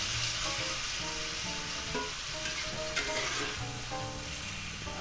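Sausage, peppers and onions sizzle steadily in a frying pan, a dense continuous hiss with faint scraping of stirring, close and even throughout.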